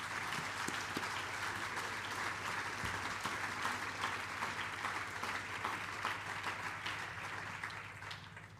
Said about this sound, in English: Ladies and gentlemen, let's give everyone another round of applause.